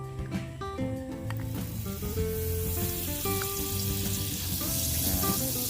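Cooking oil and margarine sizzle steadily in a pan, a loud, continuous frying hiss with crackles and some clinking, no talk over it.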